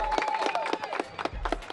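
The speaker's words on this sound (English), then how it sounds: "Clap it up for Coach." A team of youth football players and families claps for their coach after a national championship tournament, a short burst of scattered hand claps from a small group, fairly close and lively.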